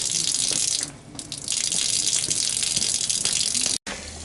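Tap water gushes steadily from an RV fresh water faucet during sanitizing, a loud close rush that dips briefly and cuts out near the end.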